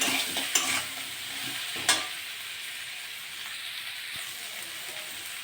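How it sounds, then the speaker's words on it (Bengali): Vegetables sauté with salt in a pan for a dish of white stems, potato, pumpkin, small crab and prawn, giving a steady broad sizzle with a couple of sharp scraping stirs near the start. "স্বাদ মতো লবণ ভালো করে একটু কষে নেব"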